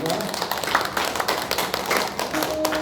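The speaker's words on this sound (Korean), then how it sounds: "박수해 주시기 바랍니다." Congregation clapping during a church worship service, a busy mix of hand claps over a noisy hall, with a voice talking through the clapping.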